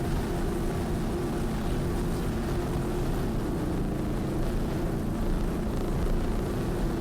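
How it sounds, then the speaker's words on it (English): A 36-foot Formula racing powerboat thunders past with a steady, dense engine roar and water rush that hold constant and loud throughout, with no voices. "is a 36-foot formula coming up here on the inside"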